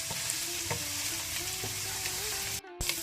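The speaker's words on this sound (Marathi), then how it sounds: "हे मांस 1-2 मिनटां बरें भाजून दियात तुमचं" Pork pieces frying in a pan for a Mangalore-style pepper fry, a dense, continuous sizzle up close with a few stirring knocks and a brief gap near the end, no one talking.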